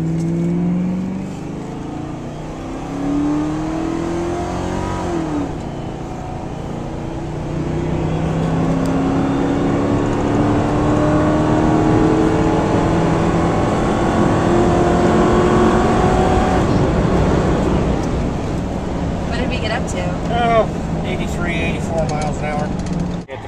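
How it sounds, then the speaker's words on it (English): A retired 2001 Ford Crown Victoria police car accelerates with a steady, rising engine drone heard from inside the cabin, while people talk over it throughout. "We're in a 2001 Ford Crown Victoria."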